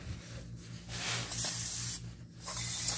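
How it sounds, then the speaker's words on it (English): Aerosol brake cleaner sprayed onto an old floor jack in a garage: several hissing bursts of varying length, close and fairly quiet, separated by short pauses, with no talking. "Spray her down with some Brake Clean."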